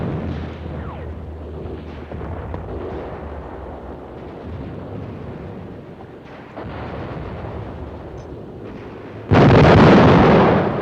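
A bridge is blown up as a film sound effect: deep rumbling booms and crackling blasts roll on for several seconds, then a final loud, broad explosion bursts near the end.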